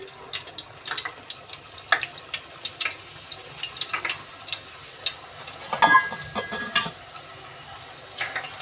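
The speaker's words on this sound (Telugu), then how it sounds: "మిగతావి ఇలాగే మనము ఫ్రై చేసుకుంటాము" Wheat flour puris frying in hot oil, a bubbling sizzle with frequent splashes and scraping clatter of a utensil, irregular bursts throughout, close and fairly loud.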